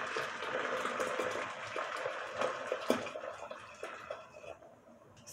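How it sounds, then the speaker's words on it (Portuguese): Two litres of water poured into a pressure cooker pot over split peas for pea soup, a steady splashing, trickling pour that runs continuously and fades toward the end. "Agora eu vou estar jogando dentro até cobrir ela com 2 litros de água."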